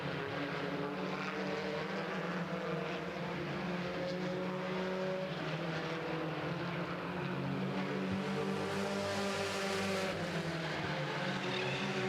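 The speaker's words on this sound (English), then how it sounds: "this is the kind of close racing that Madera Speedway and their MSTs are known for" Race cars of a Madera Speedway club race circle the oval nose to tail, a continuous loud roar of several engines with pitch sweeping up and down as they pass.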